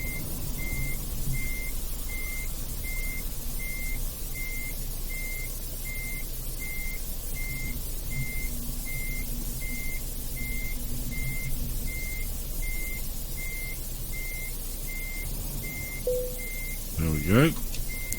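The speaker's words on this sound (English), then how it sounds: "just reverse back and connect onto the trailer." Truck reversing beeps from Euro Truck Simulator 2 sound as a steady evenly spaced beeping under a constant engine drone, with louder clanks near the end as the trailer couples.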